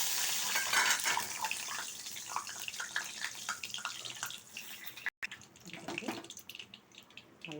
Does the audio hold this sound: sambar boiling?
yes